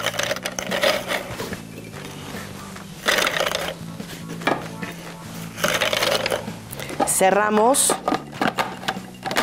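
A blender crushes cookies for a lemon icebox dessert, its motor whirring at high speed in loud bursts that come and go, with crunching rattles and someone speaking over it.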